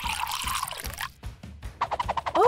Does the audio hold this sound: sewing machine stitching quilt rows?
no